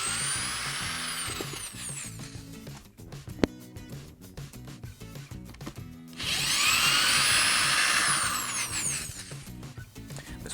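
A power drill whirs in bursts while removing screws from a central vacuum motor, with a sharp click between runs and a louder, sustained spin near the end, all alone without speech.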